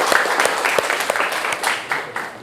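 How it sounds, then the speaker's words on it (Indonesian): Students in a classroom clap together in sustained applause, a dense crackle of many hands with a few louder claps standing out, close and continuous throughout. "Oke, kasih aplaus untuk kita semua."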